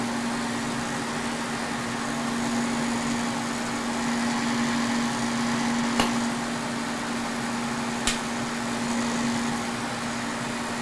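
A K&T 6 inch universal lathe runs with the cutting tool feeding into the work, giving a steady close mechanical hum over broad noise, with two sharp clicks partway through and no talking.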